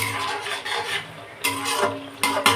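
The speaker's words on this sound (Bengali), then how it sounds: "বন্ধুরা, এবার সুন্দর করে এটাকে কষাতে হবে" Ground coriander, cumin and Kashmiri chilli cooked in oil in a fish-curry pan, heard as close scraping and stirring strokes of a spatula against the metal, several rough swishes in a short burst with no speech.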